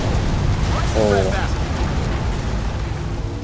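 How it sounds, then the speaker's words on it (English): A large explosion in the video game Halo Reach, a loud sustained rumbling blast filling the whole stretch with a heavy low roar, with a voice briefly over it. "Big ass explosion."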